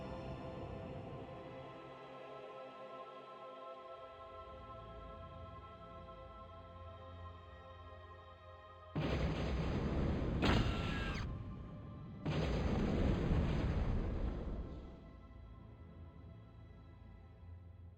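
Exploding bots in Total Annihilation go off in two loud, broad blasts a few seconds apart, each lasting a couple of seconds, over a quiet mechanical hum.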